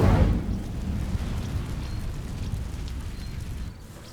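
Casting the Incendio fire spell in Hogwarts Legacy sets off a burst of flame, a loud low roar that starts with a sharp attack and then holds a steady rumbling rush before tailing off.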